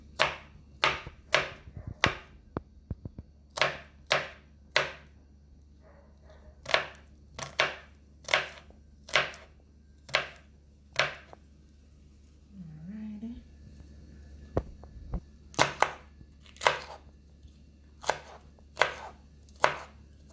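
Garlic cloves chopped on a board for steamed Jamaican cabbage, a steady run of sharp knife strikes in quick bursts with brief pauses, close and crisp, no talking.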